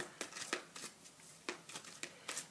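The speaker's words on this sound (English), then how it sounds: "So I will shuffle the cards and we will see what comes up." Angel reading cards being shuffled at a table, several quick riffling bursts of flicking card noise, close and fairly soft, with short pauses between shuffles and no talk.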